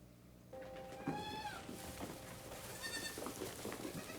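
A sheep bleats several times up close, wavering cries over quiet background noise, with a softer murmur of voices or sound between the calls.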